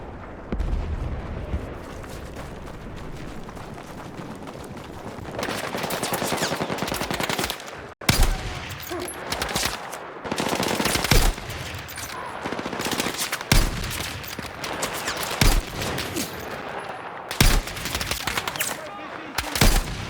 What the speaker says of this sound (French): Installe-toi à la mitrailleuse.